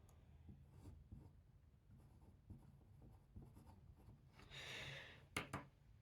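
Numbers in scientific notation are written by hand in short, quiet scratchy strokes with small pauses between, ending in a few sharper, brisker marks, close and faint with no talking.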